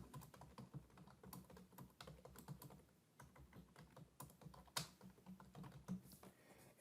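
Steady typing on a computer keyboard entering comments into a summative observation form, a dense run of close key clicks continuing without pause and with no voices.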